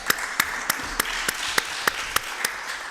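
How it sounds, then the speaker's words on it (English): Slow, evenly spaced claps at a women political leaders summit, about ten sharp hand claps in a steady rhythm over a faint room hum. "Let's clap for Jamaica."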